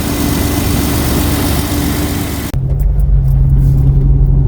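Jeep 4.0 engine idling after its idle air controller was replaced: a steady, loud, even rumble, close up, whose tone shifts abruptly partway through and then holds smooth.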